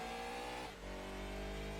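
A Gran Turismo 2 race car engine revs hard, its pitch dipping briefly with a quick short shift before climbing again, a continuous buzzy motor drone heard alone.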